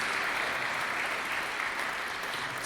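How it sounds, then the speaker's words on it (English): Steady applause from an audience at a fireside chat on skilled trades, dense and even clapping holding at a moderate level throughout without any voices. "Round of applause,"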